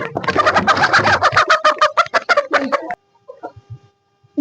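Backyard desi hens cackle and cluck in a dense, overlapping burst close by for about three seconds, then a few softer scattered clucks follow in near quiet.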